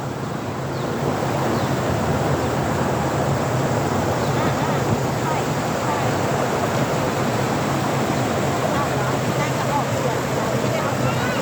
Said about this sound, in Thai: น้ำไหลมาจากน้ำตกคลองลานครับ